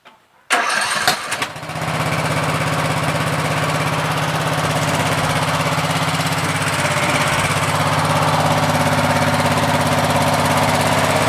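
A Troy-Bilt 17.5HP lawn tractor engine cranks and catches, then settles into a loud, steady close-up running drone that holds for about ten seconds.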